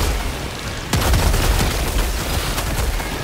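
A Breaker Incendiary shotgun in Helldivers 2 fires at eggs in a loud, rapid string of booming blasts that begins abruptly and continues with dense, overlapping shots and crackle.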